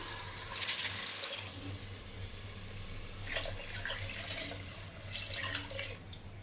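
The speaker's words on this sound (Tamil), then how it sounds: "நான் நாலரை டம்ளர் தண்ணி நான் எடுத்துருக்குறேன் ஸோ இப்போ அதை அப்படியே நான் ஊற்ற போகிறேன்" Water poured into a pot for cooking rice and dal in a home kitchen, a moderate splashing stream in bursts over a low steady hum, with no talking.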